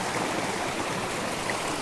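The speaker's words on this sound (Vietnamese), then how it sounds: "Suối bên dưới này rất là to nhé mọi người." A large stream on the Vietnam–China border, swollen and muddy after rain, rushes steadily in a dense, unbroken roar of water, close and constant without any voices.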